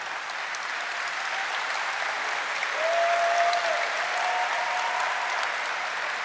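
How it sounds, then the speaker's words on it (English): Steady applause from a large audience at Gamescom Opening Night Live, dense and continuous throughout and swelling slightly midway. "Applause."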